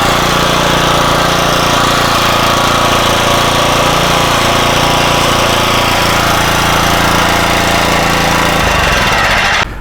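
Powermate 79cc gas edger engine running on choke, loud and close, a steady buzzing, rattling drone that holds for nearly ten seconds before the pitch shifts and the engine dies down abruptly at the end.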